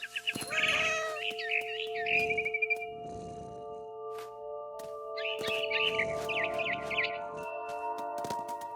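A cat meows repeatedly in the video game What Remains of Edith Finch, two bursts of clear, fairly loud high cries with a pause between, over a steady held musical tone.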